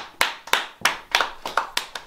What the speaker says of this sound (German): Alle einen Applaus für beim Banner 46.